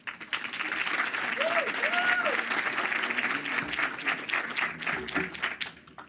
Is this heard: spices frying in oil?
no